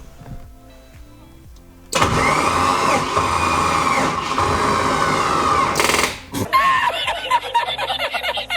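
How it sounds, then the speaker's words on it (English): An eight-turbo Mustang's engine is cranked over and fails to start: after a quiet stretch, a loud, steady mechanical starter churn runs about four seconds, cuts off, then gives a short stuttering burst. "and then we'll go crank it over"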